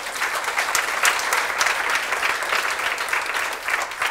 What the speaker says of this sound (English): Applause right there.